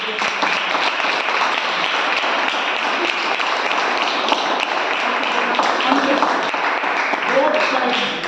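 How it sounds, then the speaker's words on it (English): Audience clapping steadily for debaters at a public speaking session, a dense continuous patter of many hands with some voices mixed in throughout. "Please clap for them."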